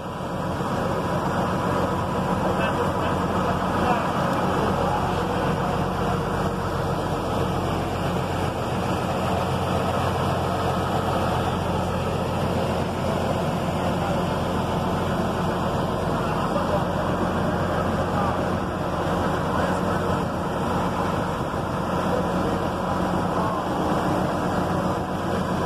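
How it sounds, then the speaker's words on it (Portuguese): A boat motor drones steadily and evenly for the whole stretch off Porto Belo island in Santa Catarina, a constant broadband engine hum with no clear breaks. "Tem o barulho do motor, mas não faz mal, gente."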